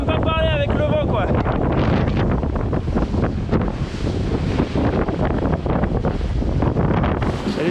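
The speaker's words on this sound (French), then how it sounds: "On s'entend même pas parler avec le vent quoi." Strong wind roars across the microphone aboard a sailboat at sea during the Les Sables–Azores–Les Sables race, a loud continuous buffeting rush with sea noise beneath and a brief electronic beeping at the start.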